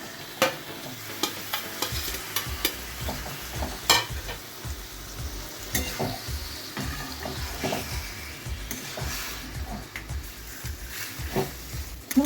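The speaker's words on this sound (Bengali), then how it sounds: "তো এর মধ্যে এখন দিয়ে দিচ্ছি মাছের তেলটা।" Onion and green chillies frying in fish oil in a home kitchen, a steady loud sizzle with frequent scraping stirs and spatula knocks against the pan, continuing throughout without talk.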